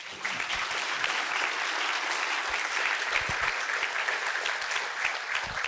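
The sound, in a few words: audience applauding lecturer at conference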